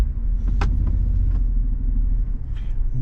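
A 2023 Toyota Sequoia Platinum idles with a low steady engine rumble while turning at full steering lock, with a few faint clicks and creaks from inside the cabin.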